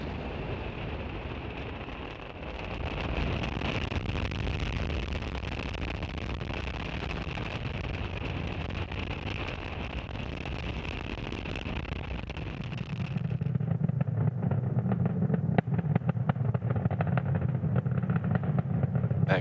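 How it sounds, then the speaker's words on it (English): A SpaceX rocket lifting off on a Starlink mission: a sustained, loud, rumbling roar with crackle, shifting midway to a deeper, heavier rumble as the engines run at full power. "Engines full power. And liftoff of Starlink 5-4."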